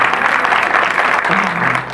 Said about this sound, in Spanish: Un aplauso para el pastor.